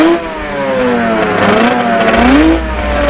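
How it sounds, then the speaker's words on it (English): Cartoon turbojet boat engine revving, a loud, close, whiny motor sound whose pitch rises, dips and climbs again in a continuous, exaggerated rev. "You'll never catch me in my new speedy, fast turbojet boat."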